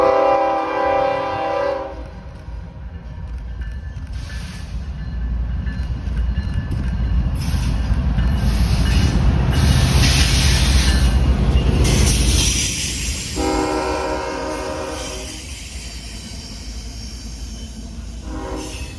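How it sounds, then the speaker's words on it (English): A westbound Norfolk Southern intermodal freight train rumbles past in Austell, heavy and close, its horn blaring in long blasts at the start and again near the end over the steady roar of wheels and cars. "here's a westbound Norfolk Southern Intermodal chugging its way through Austell"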